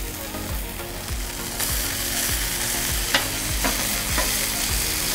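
A metal spatula chops and scrapes meat for a chopped cheese sandwich on a hot Blackstone griddle, with quick repeated clacks and scrapes over a constant sizzle, close and loud.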